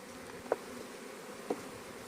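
Honeybees buzzing at an opened beehive during inspection, with frames of brood and honey exposed; a soft steady hum sits in the background while two brief louder buzzes pass close by.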